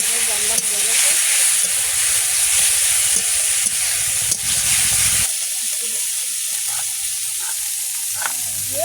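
Steady hiss and sizzle from a cooking pot of mixed-vegetable fish curry as its lid comes off, continuous and close, with a fainter crackle after the first few seconds.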